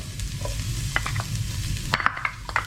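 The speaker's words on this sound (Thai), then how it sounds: "ตัวปลาที่เราทอดยังมีน้ำมันอยู่นะครับ ลงไปเลยครับ ตามด้วยกระเทียมสดที่เหลือไว้นี้นะครับ" Fresh garlic is stir-fried in hot oil left over from frying fish, giving a steady sizzle broken by scraping stirs and clattering strokes of a utensil against the pan, close and fairly loud.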